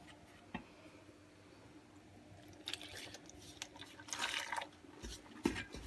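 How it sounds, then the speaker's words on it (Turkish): Soft dough being kneaded by hand with warm water and salt for a spinach Bosnian börek, heard as faint, quiet, irregular wet squelches and slaps with a few louder bursts near the end. "Şimdi ılık suyla yoğurmaya başlıyoruz hamurumuzu."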